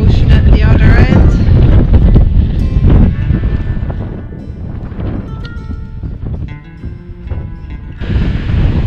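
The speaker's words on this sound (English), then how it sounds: "Beautiful, but very windy today." Strong wind blasts the microphone at a coastal cave on the Tasmanian shore, loud and gusty throughout, with people talking under the roar.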